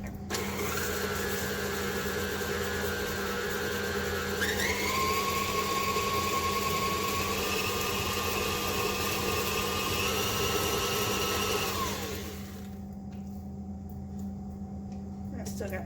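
An electric stand mixer with a paddle beats granulated and brown sugar into margarine for chocolate chip cookie dough, a loud steady motor whir whose pitch shifts partway through before it winds down and stops near the end.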